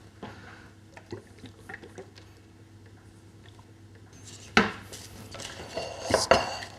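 Vegetables being tossed with olive oil, salt and pepper in a roasting dish: soft rustling and clattering of food against the dish, quiet at first, then louder scraping clinks near the end.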